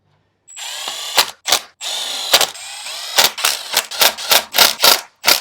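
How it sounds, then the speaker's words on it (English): An electric ratchet with a deep ball-end Allen bit drives clutch cover bolts on a Yamaha FJ-09 engine, giving two longer whirring runs followed by a quick series of short, loud bursts. "having a deep ball end Allen to put on your electric ratchet is really nice"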